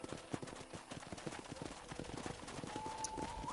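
Horses at a corral in the video game Red Dead Redemption, with faint hooves clip-clopping in an irregular rhythm under a soft, busy background.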